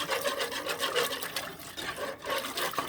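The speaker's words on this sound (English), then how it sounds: "we're going to whisk this up just like so" A whisk scrapes quickly and steadily through a mixture in a pot on a stove over medium-high heat, close and fairly soft, a rapid rhythmic swishing with no talking.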